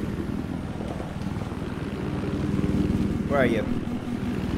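In a video game, a helicopter in a flood-zone battle drones as a low, steady rotor throb that swells slightly toward the middle, under a man's speech.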